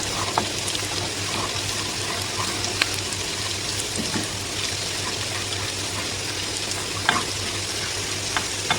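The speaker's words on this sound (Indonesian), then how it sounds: "Jangan lupa untuk diaduk-aduk agar panasnya merata" Radish cake mixture stirred in a hot oiled pan, a steady close sizzle of frying with scraping stir strokes and occasional sharper clicks throughout, no voices.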